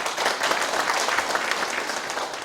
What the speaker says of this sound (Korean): 한 박수 한번 크게 보내주셨으면 고맙겠습니다